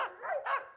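A Yakutian Laika hunting dog lets out two or three quick yipping barks in close succession, fairly near and moderately loud, with nothing else over them.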